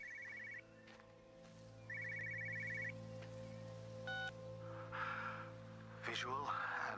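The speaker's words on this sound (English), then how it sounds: "where was that phone ringing?" A phone rings in two short electronic trilling bursts over a steady low hum in the video game Everyone's Gone to the Rapture, followed by a few scattered tones and noises.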